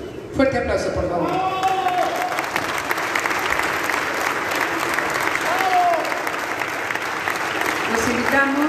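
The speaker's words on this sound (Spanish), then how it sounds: "Fuerte aplauso, por favor." Loud, dense audience applause at an event presenting a map to certify deforestation-free agave, sustained clapping with a few shouts and voices mixed in.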